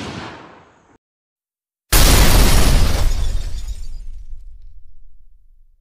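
A single gunshot fired from a shoulder-held gun into a ballistic gel block bursts out loud and close after a second of silence, then its boom rolls off over several seconds.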